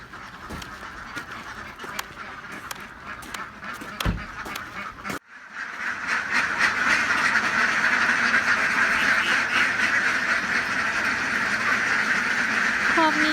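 A dense chorus of many ducks quacking continuously in a pen of about 500, loud and close, after a few sharp knocks at the start.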